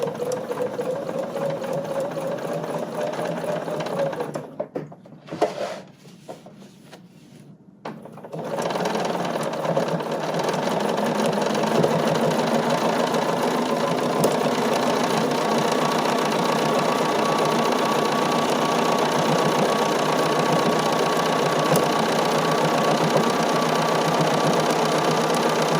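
A sewing machine fitted with a number 26 embroidery foot stitches in a loud, fast, steady whir with rhythmic needle clatter, pausing briefly for a few seconds before resuming nonstop.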